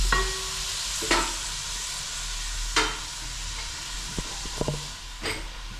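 Onions fry in a pan with salt for a village-style mutton biryani: a steady low sizzle broken by a few sharp spoon knocks and scrapes, near and without speech.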